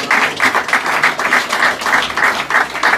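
Audience applause at an awards ceremony in Jinnah, brisk, dense clapping from a crowd in a steady patter of overlapping hand claps, fairly loud and close throughout, with no voices over it.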